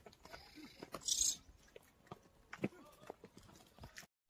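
Horse hooves clip-clop at a moderate distance along a mountain trail in Pahalgam, Kashmir, a few scattered thuds mixed with crunching and faint background voices.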